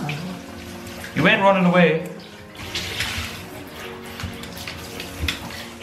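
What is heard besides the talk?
bathtub water running while bathing a pug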